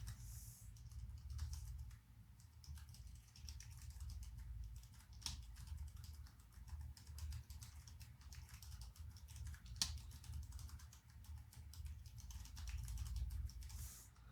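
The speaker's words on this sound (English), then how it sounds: "Let's type it." Typing on a computer keyboard: faint, scattered key clicks in irregular bursts over a low room hum, with no one speaking.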